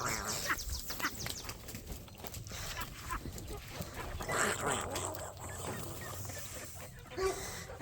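A pet duck quacks in short, fairly faint calls indoors, mixed with a dog's activity and a person talking nearby.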